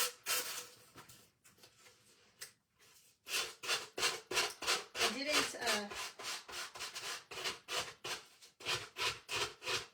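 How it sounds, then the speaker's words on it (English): Rapid back-and-forth rasping of a sanding block on wood, in quick rhythmic strokes with short pauses, close and fairly quiet. "I'm going to take the sanding block to this really quick on the edges"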